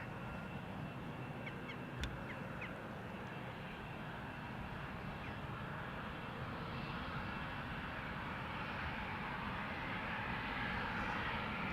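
A KLM Embraer 175 jet airliner taxis toward the runway threshold at Schiphol Airport, its engines a steady, broad, distant roar that holds for the whole stretch, with a crow cawing faintly early on.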